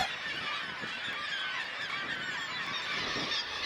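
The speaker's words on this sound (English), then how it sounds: "The island is home to the largest seabird colonies in the eastern Arctic" A crowded Arctic seabird colony on Wrangel Island keeps up a dense, continuous chorus of harsh honking and squawking calls, many birds overlapping at once with no pauses.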